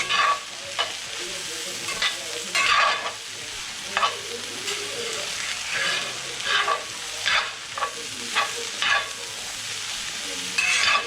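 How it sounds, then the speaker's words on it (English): Garlic sizzles in a hot pan while a utensil stirs it, with steady frying hiss and repeated scraping strokes up close and no talking. "The garlic will cook fast."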